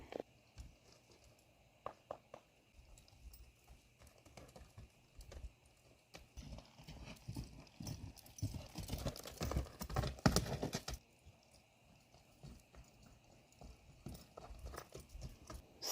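A mare's hooves clip-clop in a steady rhythm during barrel training, growing louder and busier in the middle as she moves closer at a faster gait, then easing back to lighter, sparser footfalls.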